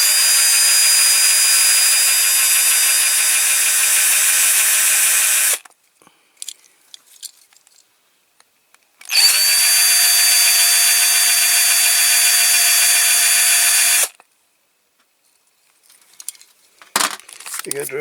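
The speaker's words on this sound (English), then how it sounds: "Let's get this drilled out." Steady, loud high-pitched whine of a power drill boring into a Dinky Toys MGB die-cast model car, two sustained bursts of several seconds each, separated by a pause with small clinks and handling noises.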